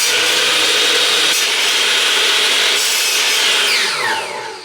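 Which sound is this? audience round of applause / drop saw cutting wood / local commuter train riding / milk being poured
drop saw cutting wood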